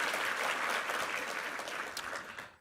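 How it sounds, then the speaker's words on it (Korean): Church congregation applauding, a dense steady clapping from a crowd that holds for over two seconds and then tapers off at the end. "함께 한번 격려의 박수 부탁합니다."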